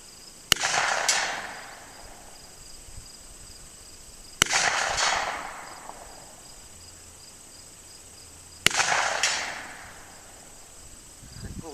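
Snub nose revolver firing 125 grain bullets outdoors, three sharp loud shots spaced about four seconds apart, each followed by a ringing echo that fades, with insects chirping in the background.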